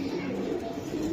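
Silver Giribaz pigeons, an army pigeon breed, give low, steady cooing close by, a continuous throaty murmur filling the whole short stretch with faint human voices mixed in.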